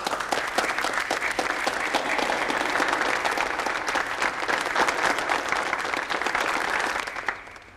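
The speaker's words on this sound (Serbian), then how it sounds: "Pozdravimo ga aplauzom." A room of teachers and pupils gives sustained, even applause to welcome a new school director, dense close clapping that holds for about seven seconds before fading out.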